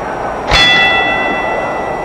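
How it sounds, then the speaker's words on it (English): A boxing round bell rings at a heavyweight bout, one sharp metallic strike followed by a sustained ringing tone that slowly fades, loud and close with no talk. "Here's the bell again."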